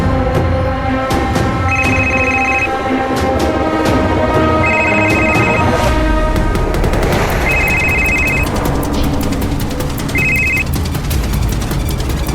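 A mobile phone rings after being called in a crime drama scene, its repeating electronic ringtone bursts sounding loud and regular over a busy, tense background of sharp, rapid staccato hits.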